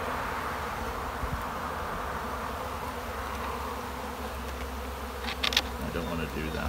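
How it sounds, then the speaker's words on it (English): Bees from a beehive buzz densely and close while a frame is handled, a steady droning hum throughout with a few higher, sharper buzzes near the end. "I am dropping bees."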